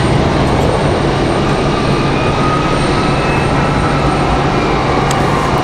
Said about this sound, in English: Breeze Airways headed out to the runway.